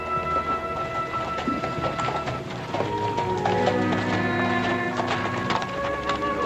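Horse hooves clip-clop on an Old West ranch as a rider arrives carrying someone across his horse, a steady rhythmic clopping that fills the scene without speech.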